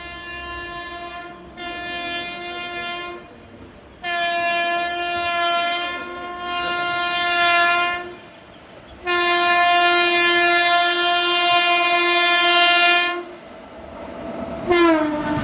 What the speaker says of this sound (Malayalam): കോർബ വണ്ടി വരികയാണ്.